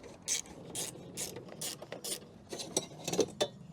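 A ratchet spins out four T30 Torx screws inside a Porsche 911, with a series of quick, sharp clicking bursts. The bursts come in uneven runs and sound close up, with faint background rustle between them.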